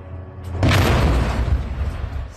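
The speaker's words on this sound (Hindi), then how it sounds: "विस्फोटक लगाकर वेपन डिपो तबाह किया।" A demolition blast set off with explosives to destroy a Hamas weapons depot: a heavy, loud boom erupts about half a second in, followed by a sustained rumbling roar of debris that carries on without fading.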